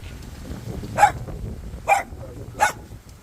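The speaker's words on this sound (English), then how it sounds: "What are you barking at?" A dog barks three separate times at a steady spacing, moderately loud, on a boat while drift fishing the Lower Laguna Madre, over a low background hum.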